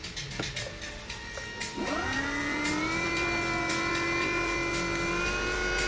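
A brushless 1000W 48V electric motor spins up as its throttle is opened. It rises into a sustained high-pitched electric whine, steady and close, and faint rhythmic ticking is heard before and during the run.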